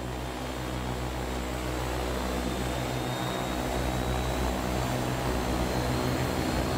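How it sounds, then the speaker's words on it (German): A propeller on an OV-10 Bronco spins up in the flight simulator MSFS 2020. It makes a loud, steady turboprop drone with a faint whine that slowly rises in pitch, and tonal engine hum sits underneath it with no talking. "Propeller fährt hoch."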